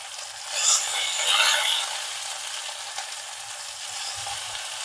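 Onions lightly softened with bitter gourd pieces fry in a pan for a bitter gourd gravy curry, giving a steady close sizzle that swells louder in the first two seconds before settling into an even hiss.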